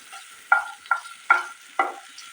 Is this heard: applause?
no